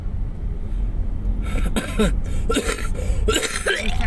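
A few harsh coughs rasp out close by over a steady low rumble of background noise.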